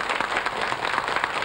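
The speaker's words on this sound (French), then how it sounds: "On peut l'applaudir très fort." A studio audience applauds a woman who teaches accordion on a regional French television programme, steady dense clapping filling the moment with no voices.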